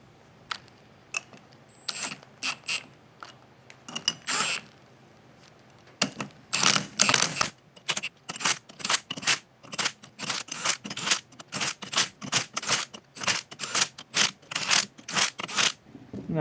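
Bolts being drawn down to seat a gear against a tight-tolerance machined surface on an OBS upgrade, heard as a long run of sharp metallic ratcheting clicks in quick bursts, close and fairly loud, with no talking.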